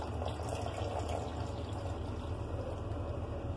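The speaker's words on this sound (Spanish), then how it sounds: "Y vamos a agregar el agua." Water pours into a pot for shrimp soup, a steady, soft trickling splash that runs quietly and evenly throughout with no talk.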